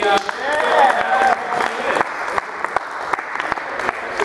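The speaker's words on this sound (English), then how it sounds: "round of applause for the" Crowd applause at a cricket show, loud clapping with voices mixed in at first, then thinning into scattered individual claps before fading.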